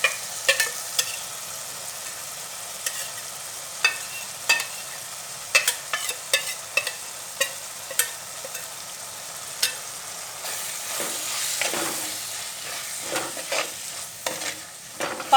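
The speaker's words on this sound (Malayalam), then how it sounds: "ഇനി നമുക്കിതിലേക്ക് അരപ്പ് ചേർത്ത് കൊടുക്കാം, അതായത് മുളകും മല്ലിയും കൂടിയുള്ള അരപ്പ് ചേർത്ത് കൊടുക്കുകയാണ്" Chili and coriander paste frying in a pan for Kerala stingray curry, a soft steady sizzle broken by frequent light scrapes and taps of a spoon stirring, close and fairly quiet with no voices.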